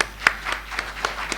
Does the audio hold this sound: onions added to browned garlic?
no